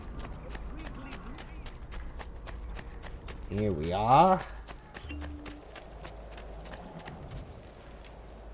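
Rhythmic hoofbeats of a horse in Assassin's Creed II, trotting steadily throughout, with a brief neigh-like call and a short spoken line partway through.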